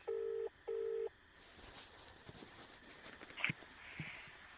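Two steady telephone keypad dialing tones sound close and clear, one after another, during a call on a live radio show, then give way to faint room noise.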